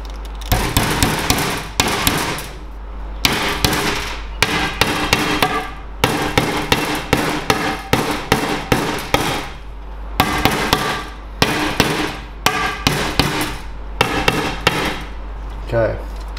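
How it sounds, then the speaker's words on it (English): Rapid series of sharp metallic taps from a small hammer driving a pin into a speargun barrel, loud and close, in quick irregular bursts with short pauses. "Just take a small hammer."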